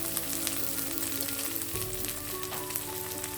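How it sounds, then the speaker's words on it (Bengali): Chopped onion and green chili fry in a pan for a spicy Maggi noodle dish, a steady close sizzle and crackle with a faint ongoing hum beneath it. "এটাকে একেবারে একটু ফ্রাই করে দিলাম"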